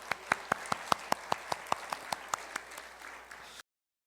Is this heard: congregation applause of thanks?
yes